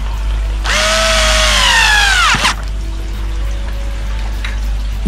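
A power drill drives screws while a foam fractionator is being built: one loud, close whine that rises and then winds down over about two seconds over a steady low hum, followed by quieter background.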